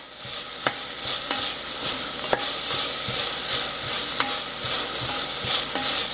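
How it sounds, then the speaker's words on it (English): Onions sauteing in a pan for white chicken chili: a steady close sizzle and frying hiss, broken by sharp clicks of a utensil stirring against the pan every half second or so, with no talk. "Just sauteing onions"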